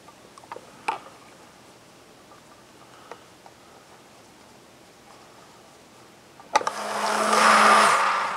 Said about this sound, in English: you recommended me getting one of these immersion blenders, and it's a game changer for me